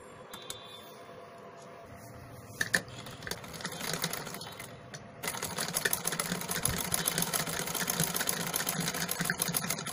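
A sewing machine stitches with its bobbin thread set wrong, giving rough stitching. It runs in quick, rattling bursts at first, then settles into a denser, louder steady clatter about halfway through, close and without talk.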